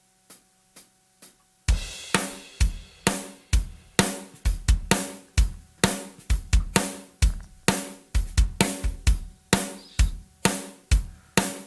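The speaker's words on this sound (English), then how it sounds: "we are now down at the count-in with just Superior Drummer, no effects, nothing else" Dry Superior Drummer software drum kit with no effects: a few soft count-in clicks, then a steady, punchy beat of kick, snare and cymbal hits, close and loud with no other sounds.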